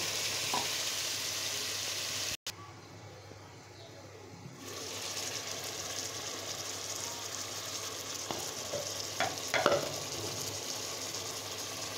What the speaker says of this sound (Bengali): এখন আমি কেটে পরিষ্কার করে ধুয়ে রাখা লাউটা দিয়ে দিচ্ছি।